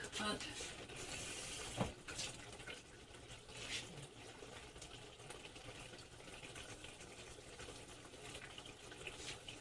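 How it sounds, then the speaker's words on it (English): A dish is washed under a running kitchen tap, a faint continuous stream of water with a brief clatter near the start, heard at a low level throughout. "I'm going to wash this real quick."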